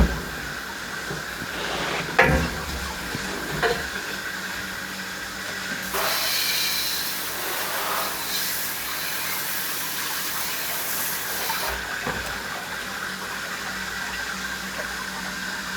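Water sprays with a steady hissing rush over an aluminium motorbike frame as it is rinsed after cabinet washing, continuous and close, swelling briefly louder at moments as the stream shifts across the metal.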